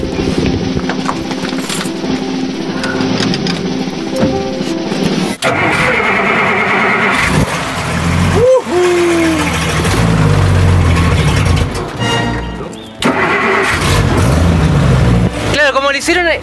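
A vehicle engine cranks and starts close by, then revs up and settles while people talk and react around it.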